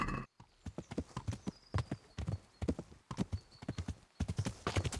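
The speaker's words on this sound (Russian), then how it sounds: "Возьмем скаковую лошадь." Racing horse hooves in Kingdom Come: Deliverance clip-clop in a steady, quick galloping rhythm, loud and close, with a brief gap near the start and a faint whinny-like tone in places.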